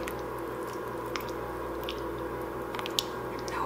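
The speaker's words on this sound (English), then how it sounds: "I'm just going to stir it up really well." A spoon squishes steadily through thick pumpkin chili with tomatoes and beans in a slow cooker, a soft wet churning with a few faint clicks against the crock, close and continuous.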